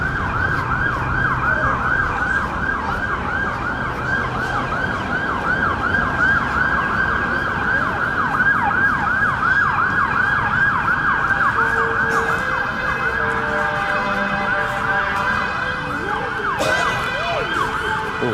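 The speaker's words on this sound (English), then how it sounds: "Oh, it's fire engines." Fire engine sirens wail continuously on a street in Sunderland, a repeating rising-and-falling tone that stays loud and close throughout, with traffic rumble underneath.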